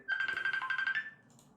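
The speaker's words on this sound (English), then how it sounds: "this is what happens when you don't turn off the phone" A phone ringtone plays nearby as a rapid pulsing electronic melody with a steady pitch, lasting about a second before cutting off and leaving faint room noise.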